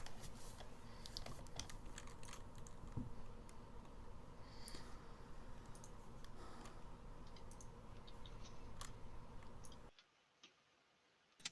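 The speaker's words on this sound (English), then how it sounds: "You guys hear my keyboard? My keyboard's loud" Loud, dense computer keyboard typing, rapid continuous clacking close up for about ten seconds, then cutting out to near silence with a couple of stray clicks at the end.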